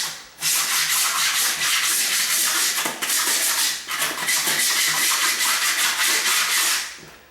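A hand scraper drawn repeatedly across a wooden floor, giving a loud, close rasping scrape in long strokes with short pauses between them, with no voices.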